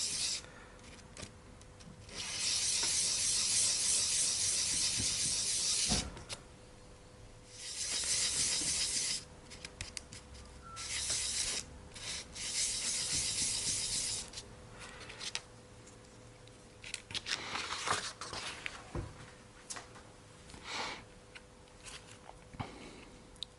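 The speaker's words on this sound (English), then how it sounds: "So I'm just going to take a little bit of material off this plastic part as well." A plastic part from a 3D printer's Z axis carriage is filed and scraped by hand in several raspy bursts of varying length, close and moderately loud, with pauses and small handling noises between strokes.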